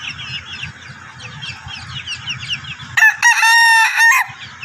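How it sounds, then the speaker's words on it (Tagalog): A Chinese chicken rooster with feathered feet crows loudly and close by for about a second and a half, cutting through steady background clucking and chirping from a flock of hens and chicks. "O, tugaok pa."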